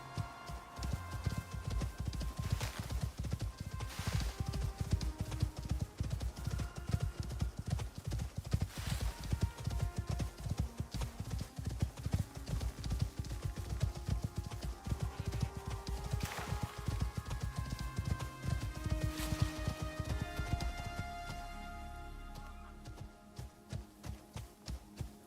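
Horse hooves clip-clop in the Icarus video game, a fast, steady galloping rhythm of hard strikes, close and continuous for most of the stretch before slowing and fading near the end.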